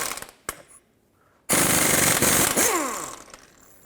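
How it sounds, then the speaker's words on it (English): A powerful impact gun with a 21mm socket works a crank bolt loose on a 2005-2010 Pontiac G6 engine: a couple of sharp clicks, then a loud sustained rattling hammer burst that winds down with a falling whine. "I recommend a fairly powerful impact gun for this"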